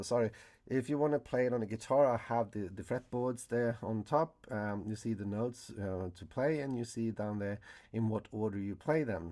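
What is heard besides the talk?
No everyday noises stand out.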